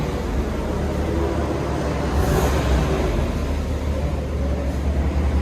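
A 2022 Ram Power Wagon's 6.4L HEMI V8 on its stock exhaust gives a steady low throbbing rumble up close, fairly even throughout with a slight swell midway.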